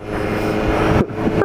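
A 2015 BMW S1000R motorcycle in rain mode with 136 horsepower accelerating hard during a wheelie: a loud, close, sustained engine roar that cuts out briefly near the end, then rises again.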